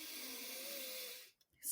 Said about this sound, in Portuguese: agora vamos encerrar com você fazendo uma respiração profunda.